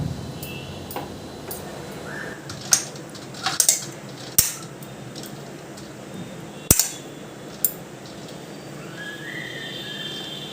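Cooked semolina being transferred onto a plate after the stove is turned off, with several sharp metallic scrapes and clinks of a spoon against cookware spaced over a few seconds above a quiet room background, close by, no talking.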